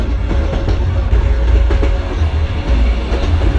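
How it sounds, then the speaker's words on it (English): A milk tanker freight train rolls past on the opposite track in a train simulation, a loud continuous low rumble with rhythmic clickety-clack of wheels over rail joints, alone without voices. "It's a freight train, it's a milk tanker freight train."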